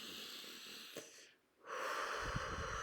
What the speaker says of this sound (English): I want to invite you just to take a breath